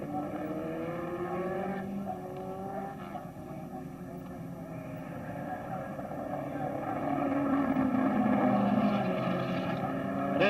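1963 Formula One race cars at the Australian Grand Prix roar past, their engines forming a steady, moderately distant drone that swells toward the end, with a commentator talking over them throughout.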